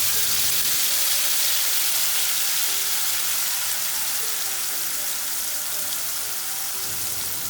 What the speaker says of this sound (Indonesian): setelah panas, sekarang kita masukkan bumbu yang tadi sudah kita haluskan.